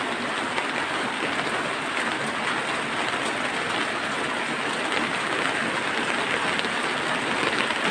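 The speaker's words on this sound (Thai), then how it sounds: "ตอนนี้ฝนกำลังตก" Steady rain falls in a dense, even hiss, pattering on surfaces nearby without a break and with no voices.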